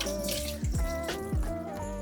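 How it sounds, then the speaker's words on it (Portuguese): Tap water runs into a sink while paper is soaked through for a painting technique, a steady splashing flow with gurgling and a few sharp falling drip tones. "o que a gente vai fazer é molhar esse papel na pia"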